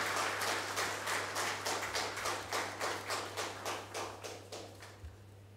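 An audience at a Canara Bank corporate event claps in a steady, evenly spaced rhythm, each beat a soft burst that gradually weakens until it dies away, over a low constant hum from the hall.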